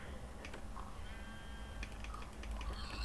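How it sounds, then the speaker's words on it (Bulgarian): Sheep bleating in the Minecraft video game, a wavering bleat heard mid-clip over a busy, noisy background with clicking, while no one speaks. "Доста овце и едно прасе."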